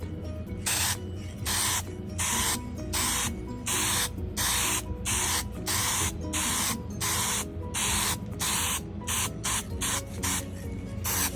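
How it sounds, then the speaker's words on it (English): Krylon Looking Glass spray paint misted lightly onto a glass door in a workshop, heard as repeated short hissing bursts with brief pauses between them, close and steady over a low fan hum. "We're just going to lightly, spray."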